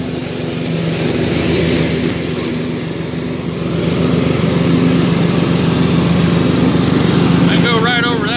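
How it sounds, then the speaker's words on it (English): A riding lawn mower cuts grass and clears brush in an overgrown yard, its engine droning loudly and steadily up close for the whole stretch, with a faint high whistle near the end. "We'll mow this thing up here."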